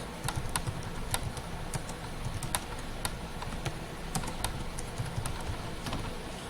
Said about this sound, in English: Then you start typing.